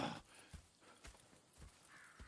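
Horses in the Red Dead Redemption 2 video game: a few faint, soft hoof thuds and shuffles with a brief whinny-like sound at the start, all quiet and distant.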